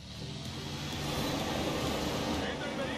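Car accelerating in the video game Forza Horizon 4, a continuous engine roar that builds slightly in loudness over a few seconds, with mechanical whine and road noise throughout.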